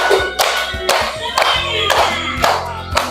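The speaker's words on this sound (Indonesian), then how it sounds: "Tepuk tangan." A classroom of students standing and clapping their hands in a rhythmic pattern, a series of loud close bursts of applause with brief pauses between, a little voice noise mixed in.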